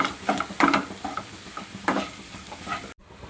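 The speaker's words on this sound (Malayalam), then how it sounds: "ഉള്ളിയൊക്കെ നല്ലപോലെ വഴന്ന് വന്നിട്ടുണ്ട് ഞാൻ ഇളക്കി പോകും" Sautéed onion and smashed potato are stirred in a pan. A spoon scrapes and knocks irregularly over a soft, steady sizzle, close and moderately quiet, and ends abruptly.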